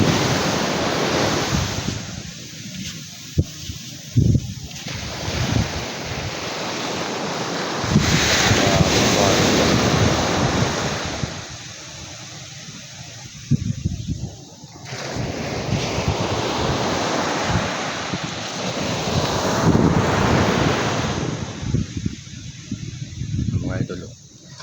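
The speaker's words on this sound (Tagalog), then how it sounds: "Mga idol, kalma na naman dagat." Surf washing in and out on a calm sea beside a beach with a high sand wall, the waves rolling in long swells under steady wind noise, with someone talking over parts of it.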